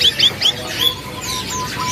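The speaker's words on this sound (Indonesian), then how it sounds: "Wah, ada yang berantem. Ada yang berantem ya kan kawan burungnya." Caged birds squabble at a bird market stall, giving a quick run of loud, close, sharp chirps in the first second, followed by softer continuous twittering.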